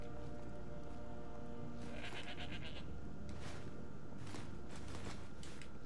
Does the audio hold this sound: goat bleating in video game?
yes